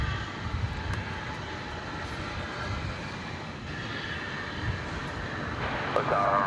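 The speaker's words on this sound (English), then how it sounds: "Yeah, we're just hanging out watching planes." Jet airliners at DFW Airport, including MD-11 cargo planes, give a steady broadband engine roar at moderate distance, with people talking intermittently over it.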